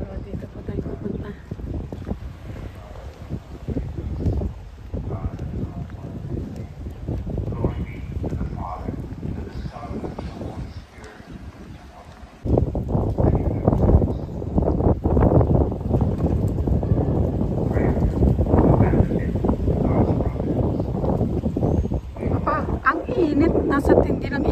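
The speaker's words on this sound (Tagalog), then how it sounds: "Buti may hangin, ano?" Steady wind rushes across the microphone, rumbling low and continuous, growing stronger partway through, with people talking underneath.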